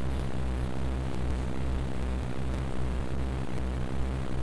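Helicopter rotor and engine drone during a battle in the Final Fantasy VII video game, a steady, loud, continuous thrum with regular pulsing that fills the whole stretch, with no talking.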